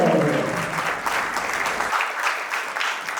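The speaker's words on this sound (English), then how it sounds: "A big round of applause as I welcome on stage Aradhana Srivastava." Audience applause fills a mega event hall as a presenter is welcomed on stage, a dense, steady wash of clapping at moderate loudness with faint crowd noise, continuing without pause.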